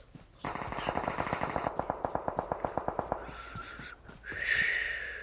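Rapid automatic gunfire in the battle royale game PUBG, a steady burst of roughly a dozen evenly spaced shots that stops abruptly, followed by quieter game ambience and a brief rising whoosh.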